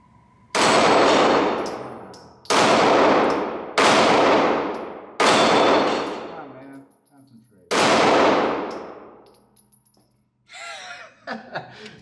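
Five loud Springfield Hellcat Pro pistol shots at an outdoor range, the fourth and fifth close together, each sharp crack followed by a ringing clang from steel plates, then laughter and talk.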